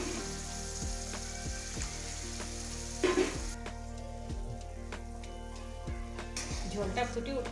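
Curry masala for chicken kofta, cooked until the oil separates, sizzles steadily in a pan as water is poured in, with a brief louder hiss and bubbling burst midway.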